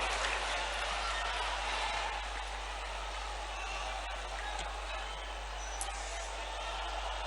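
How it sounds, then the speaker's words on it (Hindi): Steady broadband applause from a large crowd at a political event with Prime Minister Modi in Madhya Pradesh, continuous and even for several seconds with a low hum underneath. "श्री शिवराज सिंह चौहान जी को मैं आप सभी की तालियों के बीच आमंत्रित करती हूं उनके स्वागत संबोधन के लिए।"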